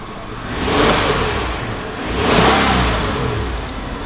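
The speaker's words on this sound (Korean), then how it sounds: "소리도 휘발유가 좀 조용하죠 지금" A 2009 Hyundai Grandeur TG 270 petrol engine runs steadily at a low hum, swelling gently twice as if lightly revved, with no voices.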